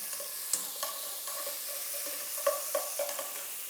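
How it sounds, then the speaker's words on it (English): Onion cooks gently in about two ounces of butter in a pan, giving a soft, quiet sizzle with a few light scrapes of stirring and no talking. "Let the onions go a little bit translucent in the butter"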